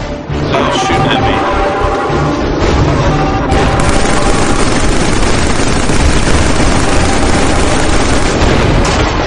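Sustained heavy gunfire and explosions roar in the sci-fi shooter Killzone 3 during a battle with a tank, a dense, loud, continuous barrage of shots and booms that fills the whole stretch.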